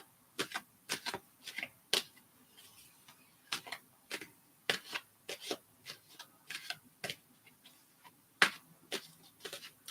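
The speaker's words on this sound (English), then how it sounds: "whenever I work with my cards, again, I always shuffle" Tarot cards are shuffled close up, with crisp, irregular clicks and snaps in quick bursts and short pauses between them. No one speaks.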